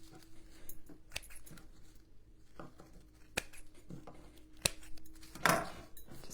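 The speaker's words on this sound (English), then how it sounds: "And then trim up this raffia just a smidge." Scissors snip raffia ribbon on a Dollar Tree kitchen craft, giving a few quiet, crisp cuts close by with soft rustling between, ending in a brief louder scrunch.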